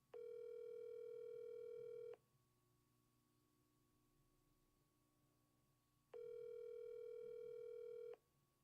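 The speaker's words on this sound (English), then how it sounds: "I'm gonna try calling her off my cell phone" A cell phone call rings back with two long, steady tones about two seconds each, separated by a gap of several seconds of quiet line noise.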